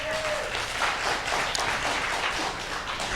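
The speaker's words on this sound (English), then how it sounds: "give yourselves a round of applause" Steady, dense applause from an audience at a Center for Spiritual Living Dallas gathering fills the whole stretch, loud and close without a break.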